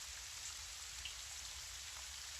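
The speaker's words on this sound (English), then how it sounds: "You hear the sound of rain outside your window" Soft rain patters outside a window in a continuous gentle wash, with a few slightly sharper drops standing out and no voices.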